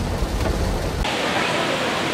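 Heavy rain pours down steadily and loudly near a traveller's accommodation, a dense continuous roar with no pauses, heard alone without talk.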